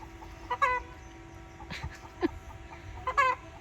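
A hen named Flopsy clucks loudly after laying an egg among backyard chickens, with several sharp squawking bursts spread across the moment, close to the listener, over faint farmyard background.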